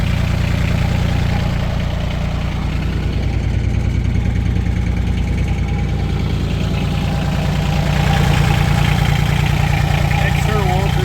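A Kohler diesel engine in a utility vehicle runs steadily at idle, a loud continuous low rumble throughout with a slight rise in level near the end, as people talk over it.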